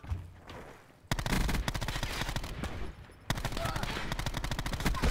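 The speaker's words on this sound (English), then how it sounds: "Oh, it's the burst gun." Rapid bursts of automatic gunfire from the burst gun in Call of Duty Black Ops 4, loud sustained rattling volleys with a brief pause between two long strings of shots, with faint talk underneath.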